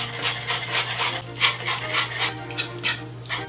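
A small whisk stirs the liaison sauce in a pan for a chicken and courgette gratin, giving a rapid series of scraping, rubbing metal strokes in a steady rhythm, close and alone over a faint low hum.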